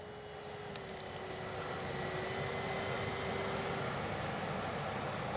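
An FMS P-47 Thunderbolt RC model warbird flies with its landing gear down, setting up for a touch and go, producing a steady, moderately distant electric-motor drone and propeller whine that swells gradually with no voices.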